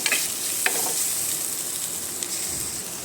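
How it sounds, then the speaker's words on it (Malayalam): Onion and ginger-garlic paste fry in a pan for a crab curry, giving a steady, close sizzle broken by a few sharp clicks of stirring. "അതിൻ്റെ കൂടെ ഉള്ളിയും കൂടി ചേർത്ത് നല്ലപോലെ വറുക്കുക."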